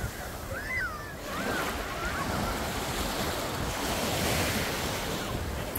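Ocean surf at Navarre Beach, Florida, washing and splashing steadily onto the shore, a continuous loud roar with wind buffeting the microphone and faint bird-like chirps early on.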